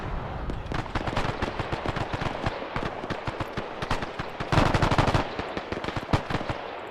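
Rapid automatic gunfire from the Arma 3 video game, dense, loud and continuous, with overlapping bursts and a heavier, closer volley about two-thirds through.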